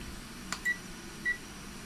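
A phone ringing tone in the horror game Pamali DLC Pocong, two short, thin electronic beeps spaced about half a second apart over a quiet, hushed background.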